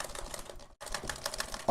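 Typing on a worn computer keyboard, a rapid close clatter of keystrokes with a brief pause in the middle before it resumes.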